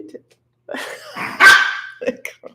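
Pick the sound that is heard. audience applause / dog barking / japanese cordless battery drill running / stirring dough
dog barking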